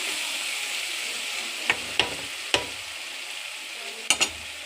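Cabbage cooking in a pan is stirred with a few sharp scrapes and taps against the pan over a steady sizzle and hiss, close up, with no talking.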